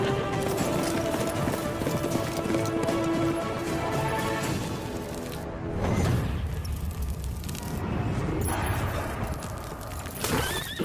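Horse hooves clip-clopping in a steady rhythm, moderately close, mixed with background music and ambient noise, with no voices.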